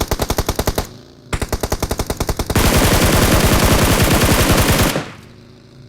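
Automatic gunfire in the mobile battle royale game BGMI: two short bursts of rapid rounds, then a longer continuous spray of sustained fire, loud and close, with no talk over it.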